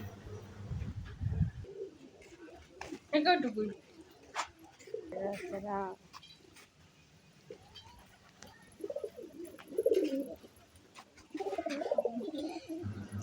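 Pigeons on a pigeon farm coo in soft, throaty bursts that come and go, with quiet pauses between calls and a low background hum.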